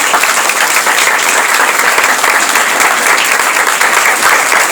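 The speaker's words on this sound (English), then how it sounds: "give it a round of applause" Dense, steady applause from an audience filling a town-hall meeting room, loud and continuous for several seconds with no talking over it.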